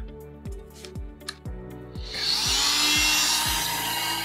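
A fine-toothed hand saw trims wood on a sash window during a pulley replacement, close strokes building into steady rasping cutting after a few initial taps and rubs, with no voices.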